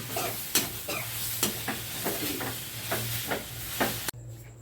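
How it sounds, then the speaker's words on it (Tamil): Garlic and dried red chillies sautéing in a pan for a simple side dish, with repeated scraping stirs, about one every half second, over a steady sizzle that stops abruptly near the end. "அந்த ராஸ்மெல் போகிற வரைக்கும் கொஞ்சம் வதக்கிக்கணும்"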